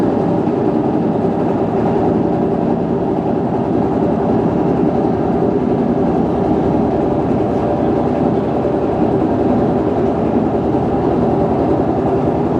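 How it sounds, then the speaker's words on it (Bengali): A motor boat engine drones steadily and continuously on the Kaliganga river, a close, even, low rumble with no voices over it. "নৌকা কিন্তু চালু হয়ে গেছে"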